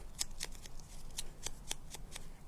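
Scissors cutting card for an autumn-colored exploding box craft, several short crisp snips in an uneven rhythm, close but quiet, with no talk.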